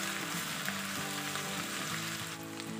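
Garlic, onion and crushed ginger frying in a pan for sarson ka saag, giving a steady soft sizzle throughout with faint background hum, no talking.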